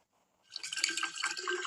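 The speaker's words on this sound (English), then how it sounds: "I'm going to put equal parts of blueberry vodka to vanilla vodka" Blueberry and vanilla vodka pour into a pitcher filled with ice, a quiet start giving way to a bright, splashing, gurgling stream that runs steadily to the end.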